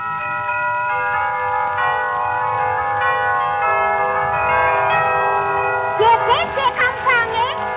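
Church bells ring with sustained overlapping tones, followed near the end by a voice talking over the fading ringing.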